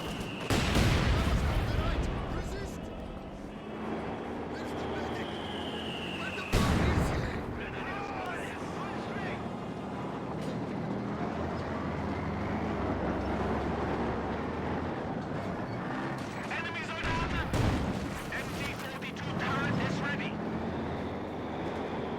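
Tanks and artillery fire in the Company of Heroes 2 video game, including a Panzer shot at a DShK position, with repeated booming blasts and rumbling battle noise under continuous voice-over.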